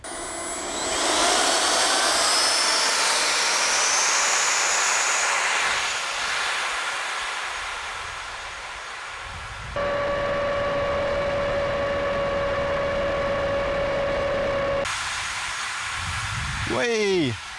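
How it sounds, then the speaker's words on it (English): A toy car driven by an electric ducted fan speeds across a flat surface, giving a loud, steady high-pitched whine and rushing hiss that shifts in tone partway through, holding continuously for the full stretch. "we're going to be seeing how fast the car goes on just the EDF on this nice flat surface"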